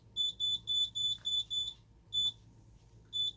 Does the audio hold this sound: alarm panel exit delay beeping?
yes